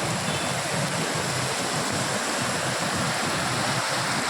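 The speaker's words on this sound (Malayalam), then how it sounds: "ഇതാണ് ഇതിൻ്റെ വെള്ളത്തിൻ്റെ ഫോഴ്സ്" Heavy rainwater rushing and gushing down from faulty national highway construction, a loud, steady roar of turbulent flowing water close by with no pauses.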